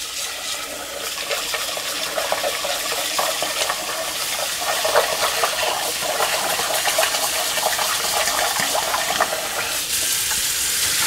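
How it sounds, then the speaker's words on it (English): Rice being rinsed and the water strained off for pork sinigang, a steady close splashing and sloshing of water with grains swirling, continuous and fairly loud throughout with no talk. "you just wanna strain the water until it's nice and translucent"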